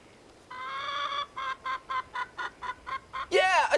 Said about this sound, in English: She makes a cluck-cluck sound.